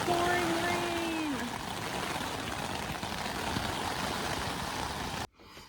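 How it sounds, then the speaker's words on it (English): Steady hiss of heavy rain pouring down at night over a tent campsite near Lake Superior, continuous and moderately loud, with a brief tonal whine early on, cutting to near silence at the end. "it's pouring rain"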